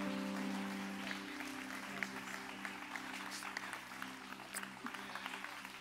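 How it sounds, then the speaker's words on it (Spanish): Church congregation clapping their hands in steady applause, a moderately loud ongoing patter with a few sharper individual claps standing out, lasting several seconds. "Once again, a strong clapping of our hands"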